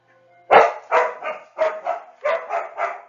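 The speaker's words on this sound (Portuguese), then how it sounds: "Com latido de cachorro e tudo" A dog barks loudly nearby, about eight sharp barks in an irregular rhythm, some in quick pairs.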